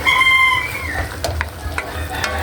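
A salted dish is stirred in a pan, with a spoon scraping and clattering under a soft sizzle while a rooster crows in the background at the start.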